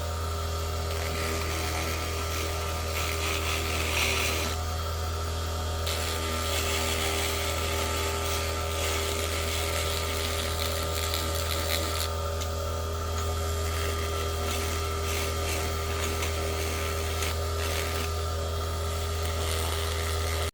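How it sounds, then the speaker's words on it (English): Needle nose sander working on carved wood, a continuous close electric whine and buzz with a steady low hum, its grinding texture shifting slightly as it presses the wood, unbroken throughout. "I do have this needle nose sander"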